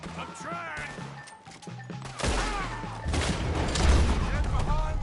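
Gunshots in a video game wagon fight, with crashing impacts and a dense burst of fire building over a few seconds, heard under excited shouting voices and game music.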